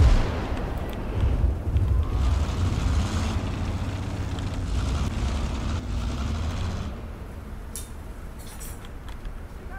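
Incoming 76 mm artillery fire in the Gates of Hell game, Germans against Russians, heard as a continuous heavy rumble with booming impacts that slowly fades over several seconds.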